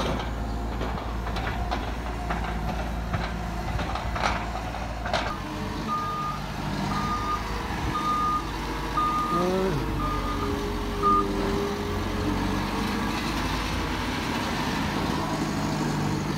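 A Claas Torion 1812 wheel loader from 2018 works on a farm, its heavy diesel engine droning while a regular reversing alarm beeps for several seconds midway, with the machine's hum carrying on after.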